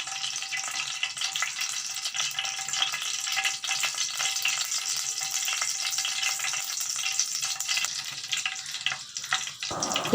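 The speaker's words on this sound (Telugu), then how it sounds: "ఆయిల్ హీట్ అయ్యాక బిర్యానీ ఆకు కొన్ని మిరియాలు వేసుకుని ఫ్రై చేసుకోవాలి." Bay leaves and peppercorns frying in hot oil in a pot, a continuous bright sizzle with fine crackles, fairly close and steady, no voices.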